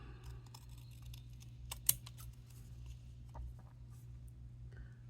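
Scissors cut paper for a planner layout in a quiet room, several soft close snips and clicks scattered over a low steady background hum, with one sharper snip standing out.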